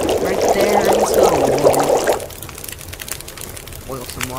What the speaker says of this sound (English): Boil some water.